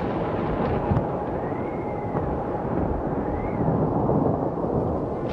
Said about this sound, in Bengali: এই কেমন ঝড় শুরু হইল রে বাবা, মনে হইতাছে তো ঘরটাই উড়ায় নিয়া যাইবো।